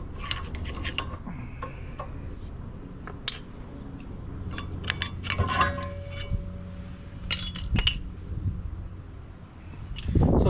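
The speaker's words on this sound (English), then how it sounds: "now I'm going to be removing the brake pads" Rear brake pads come off a 2008 Saturn Aura XR with scattered light metallic clinks, taps and scrapes, several sharp close knocks and a short squeak among them, over a quiet background.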